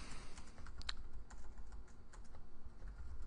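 Soft, quick keystrokes patter steadily on a computer keyboard as code is typed, close and quiet with no voices.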